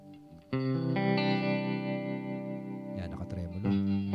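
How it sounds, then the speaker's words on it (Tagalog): Electric guitar through an M-VAVE Tank G pedal set to tremolo, held chords pulsing in volume, loud and close, with a brief change of chord near the end and no talking. "Yan, nakatremolo."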